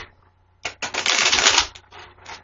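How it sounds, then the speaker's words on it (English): A deck of cards is shuffled for a reading in a few sharp papery bursts, with one dense riffle in the middle and lighter flicks after it. The sound is close and loud, and no one talks. "So I shuffle 3 times"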